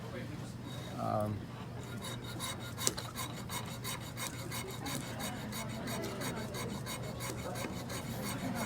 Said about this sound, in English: So the trick to sawing out a die is